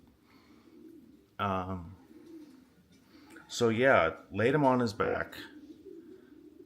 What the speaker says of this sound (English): I'll turn up the bird noises.